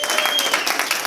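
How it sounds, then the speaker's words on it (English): Audience applause at an investment opportunity meeting for Steve Higgs, a short burst of close, dense clapping with a faint tone running through it. "Can we give Mr. Steve Higgs a round of applause?"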